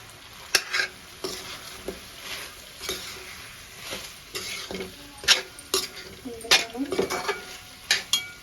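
Chicken fry sizzling in a pan with chicken masala powder and curd, stirred by hand: close, crisp scrapes and spoon clinks over a steady low sizzle, no voices.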